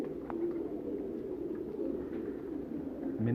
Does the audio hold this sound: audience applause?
no